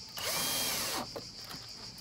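A power drill whirs steadily for about a second as it drives a screw while building a seven-frame nucleus beehive, then two short bursts follow, close and loud.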